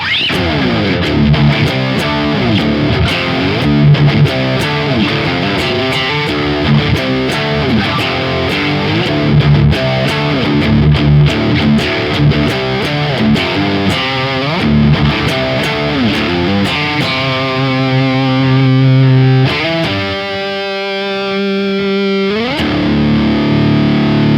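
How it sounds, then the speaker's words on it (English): Heavy, distorted electric guitar in drop D tuning playing low chugging riffs and chords, loud and continuous, ending with ringing sustained notes; no voices. "So there's a drop D heaviness sound."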